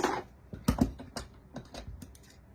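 Several crisp snips and crunchy cuts, as of scissors slicing through paper, close by and irregular, with soft rustling between.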